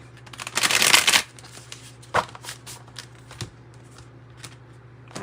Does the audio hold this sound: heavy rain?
no